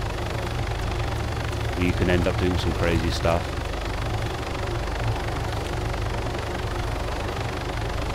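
An ArmA 3 helicopter engine holds a steady, loud rotor and turbine drone the whole time, with a few brief tonal sweeps in the middle. Someone talks over it.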